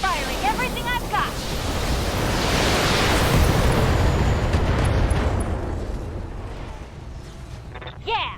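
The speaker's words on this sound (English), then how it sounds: "Firing everything I've got." Mech weapons in BattleTech unleash a sustained, roaring barrage of booming fire that swells and rumbles throughout, with brief voices at the start and end.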